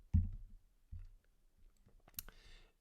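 Soft computer mouse clicks, a few quiet taps close by in an otherwise silent room while working in a mobile app builder.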